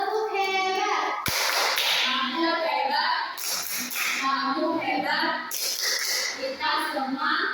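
Schoolchildren in a classroom perform a rhythmic clapping chant, sharp clap bursts punctuating sung, patterned voices in a call-and-response cadence, loud and close.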